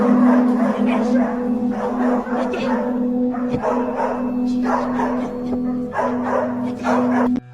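A security guard's dog barks repeatedly in a dim indoor hallway, sharp loud barks in steady bursts over a constant low hum.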